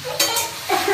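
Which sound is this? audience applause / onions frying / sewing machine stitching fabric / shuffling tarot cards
onions frying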